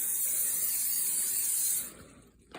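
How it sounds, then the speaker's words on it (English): Non-stick cooking spray hisses from a can into a 13 by 9 glass dish, one continuous close spray burst that cuts off near the end. "I like to use a non-stick cooking spray"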